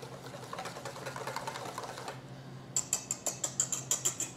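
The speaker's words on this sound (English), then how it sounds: "We're going to give it a little whisk." A whisk works through a herb marinade of dill, parsley and basil in a bowl. Soft mixing gives way to a quick, steady series of bright metallic clicks close by.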